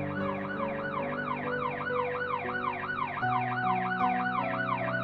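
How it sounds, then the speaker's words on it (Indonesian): Police car siren wailing in repeated rising and falling sweeps as it passes, fairly distant and steady, over a low road drone, with no voices. "Mendengar raungan sirene mobil polisi yang melintas memadamkan perasaan itu."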